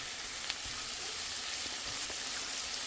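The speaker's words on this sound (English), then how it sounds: "So I just added in the garlic. And you're supposed to like kind of cook it." Garlic sizzling in a hot frying pan, a steady close hiss of frying with a few faint clicks of stirring throughout.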